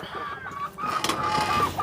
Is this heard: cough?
no